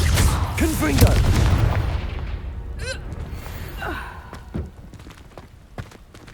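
A Confringo spell blast in Hogwarts Legacy erupts as a loud booming burst with crackling fiery noise at the start, fading into softer rumbles, with short spell whooshes and faint vocal gasps afterward.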